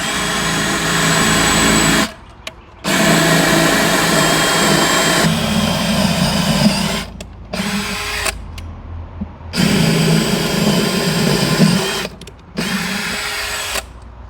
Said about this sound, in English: so let's go ahead and drill.